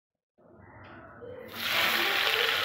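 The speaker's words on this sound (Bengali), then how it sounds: "এখানে আমি জিরে তেজপাতা ফোড়ন দিচ্ছি।" Cumin seeds and bay leaves dropped into hot oil for tempering, a hissing sizzle that starts moderately and then surges louder and brighter, continuing steadily.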